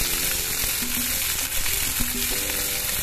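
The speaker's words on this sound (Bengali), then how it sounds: "আজকে আমি একটু আলু ভাজা করছি সিম্পলি।" Sliced potatoes frying in a pan of oil in a home kitchen, with a dense, constant, close sizzle and occasional faint clinks of a utensil, no voices.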